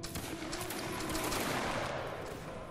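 Musket volleys fire in a Waterloo battle game between Prussian and Italian troops, a dense continuous crackle of many shots rolling together for several seconds, loud and busy with no voices.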